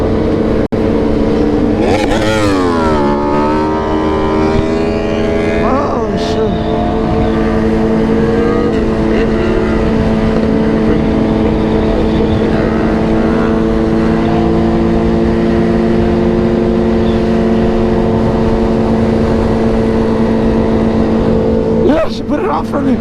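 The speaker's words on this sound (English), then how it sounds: "she's definitely revving her fucking bike" A motorcycle engine revs with rising and falling pitch sweeps early on, then holds a loud, steady drone throughout a street ride-along, with voices talking over it.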